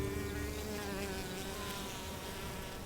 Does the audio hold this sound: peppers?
no